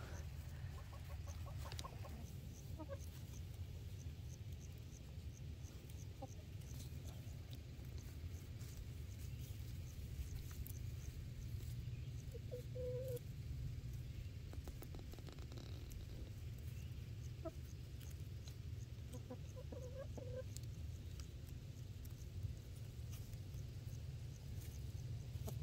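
Chickens (hens) clucking in a garden area that had been overgrown, soft scattered clucks and calls at a distance over a steady low hum, faint and intermittent throughout.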